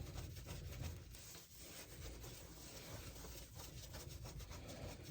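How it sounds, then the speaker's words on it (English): A kitchen surface is scrubbed clean, giving a continuous close, rough rubbing and scraping sound that rises and falls with the strokes, with no talk. "let's finish scrubbing the rest."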